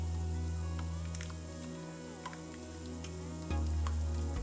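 Flour mixture being stirred in a hot pot for a seafood chowder base, with a steady close sizzle and soft scraping throughout, no talking.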